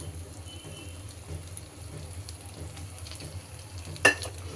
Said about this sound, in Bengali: আবার একটু সরষের তেল দিয়ে দিচ্ছি।